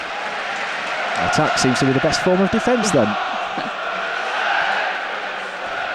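Rovers fans at Ewood Park cheer and roar on a cold night during a Blackburn Rovers vs Chelsea football match, a broad, steady crowd swell lasting throughout while a commentator talks over it.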